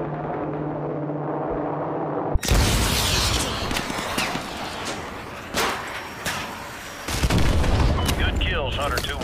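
Rapid gunfire and heavy booms of artillery in the Call of Duty Modern Warfare 2 Remastered campaign, loud and close, with a sudden blast after a quiet start, bursts tapering then resuming, and radio voices talking underneath.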